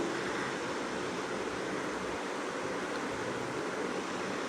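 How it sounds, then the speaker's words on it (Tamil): Mixer grinder grinding dry wheat with no water added, a continuous dense whirring roar at steady loudness that runs unbroken from start to finish, close to the microphone. "இதில் இப்போ தண்ணியெல்லாம் ஊற்ற வேண்டாம் அப்படியே போட்டு அரைச்சிடலாம்"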